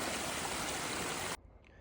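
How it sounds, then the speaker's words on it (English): Creek water running down a flooded hiking trail on the Pinhoti Trail, a steady close rushing wash that cuts off abruptly after about a second and a half, leaving faint quieter flow. "Like I said, the trail has turned into a creek"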